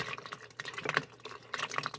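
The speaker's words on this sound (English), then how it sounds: "now I'm going to stir in 3 quarts of berries and liquid" Strawberries and liquid are stirred together for freezer jam, a faint, close wet sloshing and squelching in irregular bursts.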